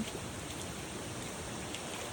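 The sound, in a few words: light rain drizzling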